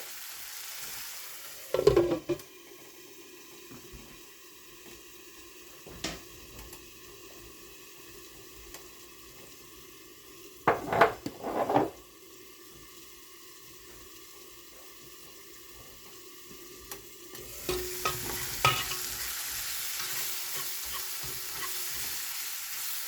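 Foraged mushrooms turning dark chocolate brown as they sauté in a pan, a steady soft sizzle broken by a few sharp utensil clatters and stirring scrapes, with a louder burst of frying near the end.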